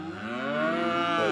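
Cattle in a pasture give one long, loud, close moo that swells and bends in pitch, heard alone without talk.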